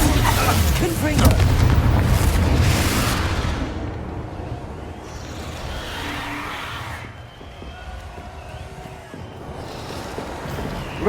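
Confringo blasting curse explosions in Hogwarts Legacy, a loud rumbling boom with heavy low roar that fades, followed by a softer second blast, under game voices and ambience.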